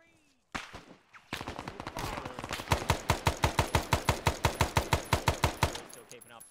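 Gunfire in the Arma 3 military game, a few scattered shots followed by a long, steady rhythmic burst of around twenty loud, evenly spaced rounds nearby.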